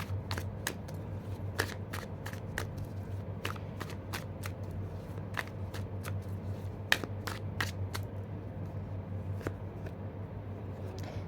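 Tarot cards being handled and shuffled, crisp riffling snaps and flicks repeating at an uneven pace, close and moderately quiet over a low background hum.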